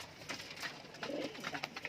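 Pigeons in a backyard loft give soft, low cooing calls that are faint and steady over a light background hiss.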